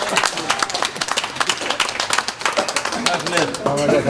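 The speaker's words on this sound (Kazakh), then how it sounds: "Шашылар жасасын деп бір шапалақ ұрып қойыңыздаршы" Clapping from a wedding-party crowd at a Kazakh betrothal celebration in Shieli, a dense run of hand claps under ongoing talk and music, steady and fairly loud throughout.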